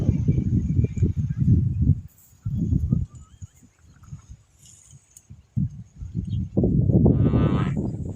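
Water buffalo lowing and grunting in bursts close by on a farm, with a few metallic clinks and shuffling between calls.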